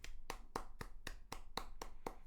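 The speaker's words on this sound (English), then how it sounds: "That was me clapping" One person claps their hands about nine times at a brisk, even pace. The claps are sharp and close, with no voices.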